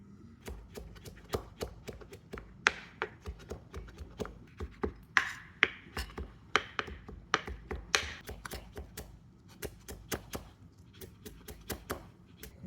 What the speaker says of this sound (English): I just chop them into small pieces.